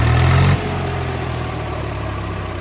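A Swaraj 735 tractor engine idles with a steady low rumble, louder for the first half second and then settling into an even, close, mechanical hum.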